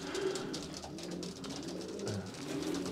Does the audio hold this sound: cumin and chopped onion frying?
no